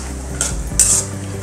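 Peanuts roasting with mustard seeds in hot oil in a pan, with short bursts of sizzling and a metallic scrape of a spoon against the pan, loud and close with no talking.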